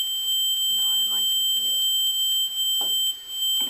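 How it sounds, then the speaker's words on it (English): A Mosquito anti-teenager device, run through a transformer, emits a steady high-pitched tone with faint beeping pulses throughout, while someone talks briefly underneath. "So it's not currently beeping. Now if I want to broadcast, I can turn that on."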